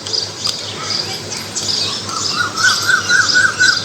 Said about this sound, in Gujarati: ક્યાં કોયલ બોલી? કોયલ ક્યાં બોલી?